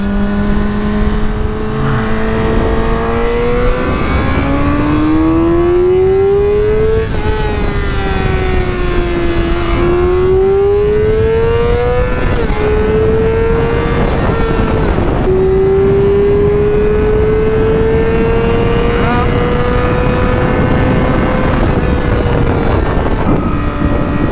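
A Yamaha R6 1000cc sport motorcycle accelerates hard, its engine whine climbing in pitch through several gear changes under heavy wind rush, loud and close throughout.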